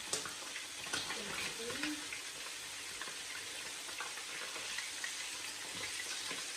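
Turkey frying in a pan, a steady soft sizzle with faint stirring and scraping, heard quietly at close range with some background noise.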